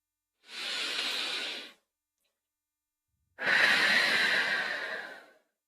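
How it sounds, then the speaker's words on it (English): A slow, deep guided breath drawn in during a calm self-care exercise, two long airy breath sounds close to the ear separated by a short silence, with no talking. "take one slow breath"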